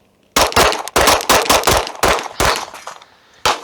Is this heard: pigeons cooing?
no